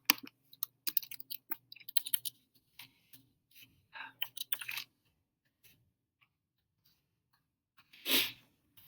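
A computer keyboard clicks close and quiet as an equation is typed, with dense irregular keystrokes in bursts over the first five seconds, then near silence and one short, louder noise near the end.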